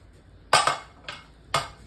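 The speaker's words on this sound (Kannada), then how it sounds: "ನಾನು ಕುಕ್ಕರ್ ಓಪನ್ ಮಾಡಿದೆ" Metal lid of a pressure cooker being opened after cooking chicken curry, three sharp clanks and rattles of metal against metal, close and distinct with quiet gaps between them.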